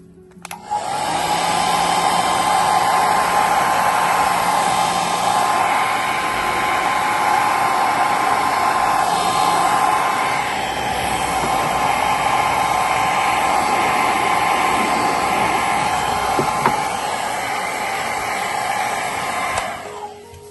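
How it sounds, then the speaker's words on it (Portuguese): A hair dryer blows steadily to dry paint on a polymer clay box. Its loud, even whoosh and whine switch on at the start, run for about twenty seconds and cut off at the end. "Agora eu vou acelerar um pouquinho com o secador."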